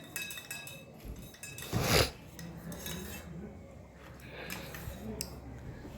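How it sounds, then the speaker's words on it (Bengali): Aloe vera gel and shampoo being stirred together in a bowl: soft scraping and clinking of a spoon against the dish, with one louder clatter, continuing at close range, low in level. "অ্যালোভেরা জেলের সাথে আমি ফার্স্টে শ্যাম্পুটা দিয়ে ভালো করে গোলাচ্ছি এটাকে"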